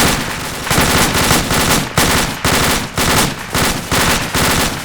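Rapid bursts of airsoft gunfire crackle in repeated volleys during a building-clearing drill, loud and close, with short pauses between the strings of shots.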